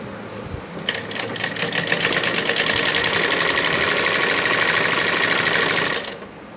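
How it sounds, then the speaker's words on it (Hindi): Sewing machine stitching salwar fabric, starting after a few clicks into a loud, close, rapid mechanical whirring hum that runs steadily for about five seconds before stopping, with no speech. "हमें 9 इंच तक सिलना है इसको।"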